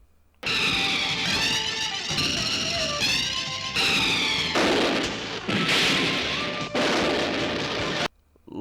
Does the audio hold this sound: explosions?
yes